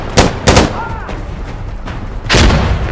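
Loud gunshots crack out in the video game Insurgency Sandstorm: two quick shots, a pause, then a heavier, longer burst, all up close.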